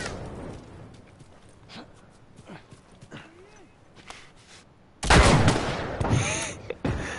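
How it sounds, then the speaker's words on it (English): Gunfire in The Last of Us Remastered on PS5: scattered sharp shots and impacts over game ambience, then a loud dense burst of rapid fire and clatter in the last two seconds, with no talk. "I love shooting those guys and then catch on fire."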